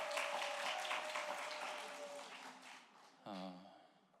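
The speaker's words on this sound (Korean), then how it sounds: "앞으로 더 열심히 찬양을 할 수 있도록 큰 박수 부탁드립니다." A church congregation at a Korean afternoon worship service claps, the applause loudest at first and tapering off, followed by a short tonal sound near the end.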